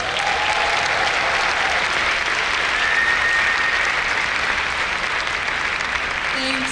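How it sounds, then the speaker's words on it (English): An audience gives a big, sustained round of applause welcoming actress Charlize Theron at an event with HIV youth groups, a steady wash of clapping that holds loud throughout. "A big round of applause."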